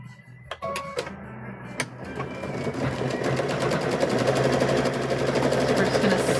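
A sewing machine stitches quilt binding in a fast, even mechanical rattle that starts after a few clicks and stays steady and close, with someone talking over it at first.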